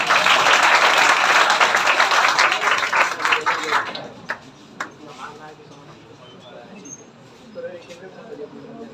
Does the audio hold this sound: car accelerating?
no